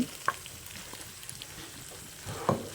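Spice paste sizzling in a frying pan for a vegetarian aloo dum, a soft steady fry hiss with a couple of brief scraping knocks as it is stirred, with no talking.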